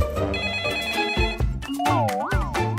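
A telephone rings with a warbling electronic ringtone, a bright repeated melodic trill that rises and falls, loud and close, with a faint voice briefly underneath.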